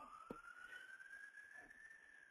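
Police sirens wail through the night, a single steady rising tone heard at a distance and fairly faint, with no talking.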